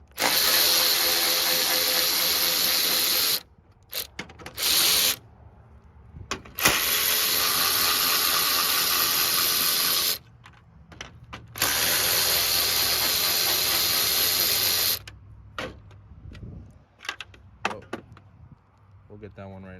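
A power drill unscrews the four grille screws on a 2016-2018 GMC truck, making several loud, close whirring bursts separated by brief pauses and clicks.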